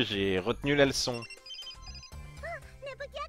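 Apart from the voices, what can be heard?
phone ringing in video game Hyperdimension Neptunia Re;Birth2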